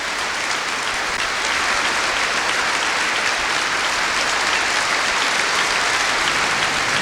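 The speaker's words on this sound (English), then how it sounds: "spontaneous applause breaks out in Westminster Abbey" Spontaneous applause breaks out among mourners inside Westminster Abbey at Princess Diana's funeral after Earl Spencer's tribute, a sustained, dense roar of many hands clapping that fills the space evenly and continues steadily.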